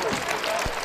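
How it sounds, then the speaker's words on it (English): A basketball crowd at a men's college game claps for a player, steady applause filling the arena with a commentator talking over it. "the crowd gives Burrows a hand for his solid minutes that he's put out on the floor tonight"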